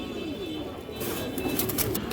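Pigeons of various breeds coo softly in a loft. The low, continuous cooing sits under a steady background hiss, with a few brief rustling bursts.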